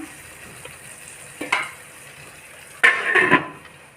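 Spices with turmeric powder frying in a pan for a paneer dish: a steady low sizzle with two louder bursts of crackling and stirring, the second longer, near and without talk.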